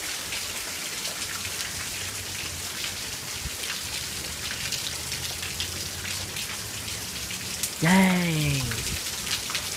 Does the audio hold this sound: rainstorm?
yes